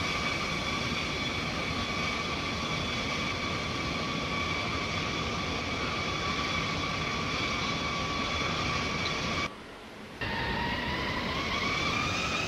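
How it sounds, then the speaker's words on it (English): A private jet throttles up for takeoff in a flight simulator game, a steady loud whining engine drone with sustained high tones that cuts out briefly near the end, then resumes. "So let's take off this private jet"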